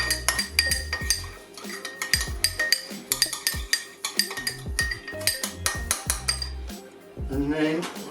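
A spoon clinking and scraping around a bowl while olive oil and seasoning are mixed for a prime rib rub, rapid metallic taps and rattles, close and steady with brief pauses.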